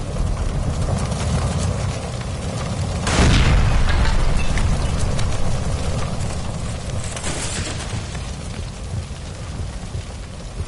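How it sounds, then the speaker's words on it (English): A gas line explodes inside a kitchen in the crime video game L.A. Noire, one loud low boom about three seconds in, followed by rumbling debris and crackling fire under steady game ambience. "Shoot the gas line, Cole, we're out of here!"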